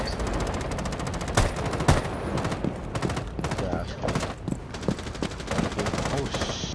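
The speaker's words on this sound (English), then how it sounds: "He's shooting at me." Bursts of enemy automatic gunfire in a 5v5 shooter match on the Consulate map, rapid rattling volleys punctuated by a few sharper, louder shots, with voices talking over the action.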